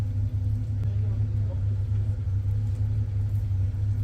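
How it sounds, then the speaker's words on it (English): Historic hillclimb race cars from the 1950s era idle and rev at the Rossfeldrennen, a loud, steady low engine rumble that stays close and continuous. "All just firing up their engines, trying to get the motor warmed up and prepare everything."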